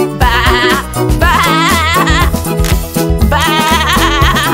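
A singing voice imitates a sheep with a wavering, vibrato "baa" bleat in a children's nursery-rhyme animal song, loud and repeated over bright backing music.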